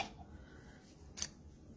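Scissors snip once through colorful cardstock heavy with glue, a single short crisp cut standing out briefly above a low, quiet room background.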